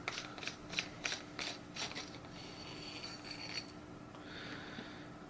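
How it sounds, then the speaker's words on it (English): A lightsaber hilt's bottom pommel is unscrewed after its center clamp is loosened, giving a run of quiet ratcheting clicks and creaks, close up and faint, ending in a soft scrape. "what you do is you just unscrew the bottom once you loosen that center clamp"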